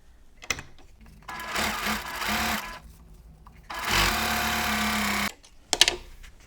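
A sewing machine stitches a seam on a Christmas quilt block in two steady runs of about a second and a half each, close and fairly loud, with short clicks and handling noises before, between and after.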